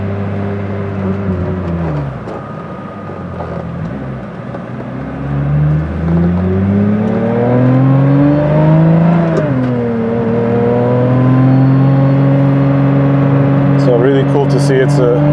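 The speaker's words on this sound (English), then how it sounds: "See, it's a dog box transmission with the first blowdown." A Pagani Utopia with a manual dog-box transmission pulls away hard, its engine note climbing through the revs with a shift and blowdown midway, loud and close, with voices talking over it.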